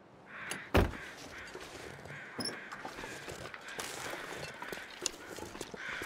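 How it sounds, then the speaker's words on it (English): Crows caw in the snowy wilderness of The Long Dark, with a few scattered calls over a steady ambient wind bed and a sharp nearby thump early on. "I made those crows come out."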